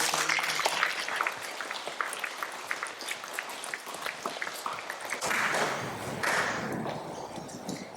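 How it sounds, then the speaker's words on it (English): Applause from an audience at a school Stage 2 awards presentation, a steady sustained clapping that fills the room, swelling again toward the end with scattered sharper claps. "So can we give everybody a round of applause?"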